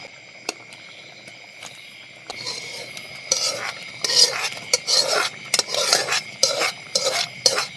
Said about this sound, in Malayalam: അപ്പോൾ ഇനി മീനിൻ്റെ കഷ്ണം കൊണ്ട് ഇട്ട് കൊടുക്കാം.